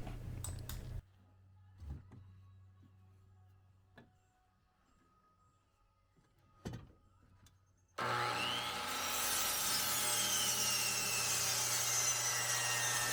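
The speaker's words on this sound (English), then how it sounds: "It takes a little more effort for the saw to cut through the wood at a 45-degree angle" A miter saw cuts through wood at a 45-degree angle. After scattered quiet taps and knocks, the saw starts abruptly and runs loud and steady for the rest, a harsh broadband cutting roar.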